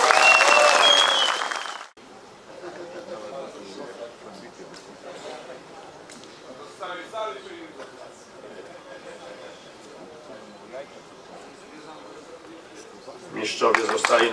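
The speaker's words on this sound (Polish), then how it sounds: "Gorące brawa." Applause fills a hall at a Polish championship award ceremony, loud at the start, then cutting to scattered clapping under an announcer's voice, and swelling again at the close.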